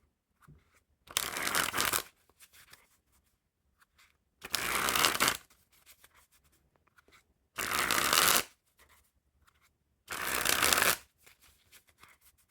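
A fresh deck of Bicycle Balloon Jungle playing cards is riffle shuffled four times, each a crisp, fluttering burst about a second long, separated by quiet pauses.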